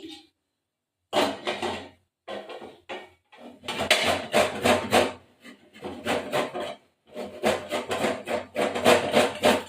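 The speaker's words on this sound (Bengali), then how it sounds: "একটু আদা গ্রেট করবো এই যে আদা গ্রেট করছি" Ginger is grated in a kitchen with rapid rasping strokes, delivered in bursts of quick rhythmic scrapes separated by short pauses, close and fairly loud.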